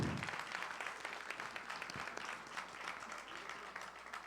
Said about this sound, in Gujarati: જોરદાર તાળી પાડીને આપણે બાળકોને વધાવીએ.